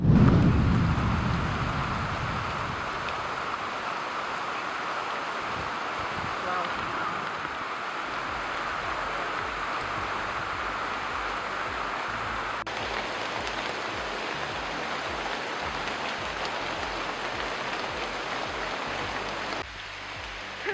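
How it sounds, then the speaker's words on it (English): Steady rain pours down in a continuous broad hiss, fairly loud and unbroken for the whole stretch, with faint low rumbles underneath. "It rains midway and the rocks are slippery."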